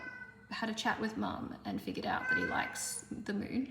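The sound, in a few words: cat meowing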